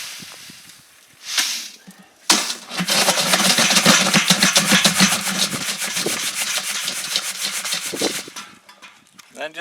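Dry prospecting material is shaken and rubbed through a 20 or 30 mesh screen, a brief scrape followed by about six seconds of steady, close, gritty rasping that trails off.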